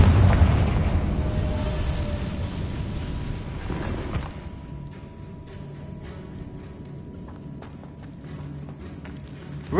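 Confringo blasting spell in Hogwarts Legacy, one loud explosive boom at the start fading into a rumbling decay, then quieter scattered clatter and game sounds.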